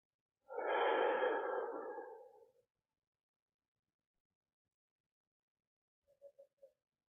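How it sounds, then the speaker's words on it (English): A person takes one long, airy breath, soft and close in a silent room, followed a few seconds later by a few faint short puffs. "Breathing this body by itself."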